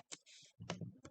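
A few quick, soft clicks of computer keyboard keys pressed to clear an R console with a Ctrl and L shortcut, close and quiet in an otherwise still room.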